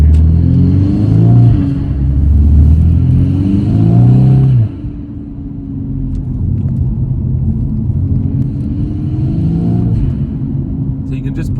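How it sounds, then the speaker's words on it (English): A VW Scirocco R fitted with a Revo induction air filter drives along, its engine rumbling and revving with loud intake noise, then settling to a steadier drone, with someone talking over it. "But actually, the air filter is making that noise."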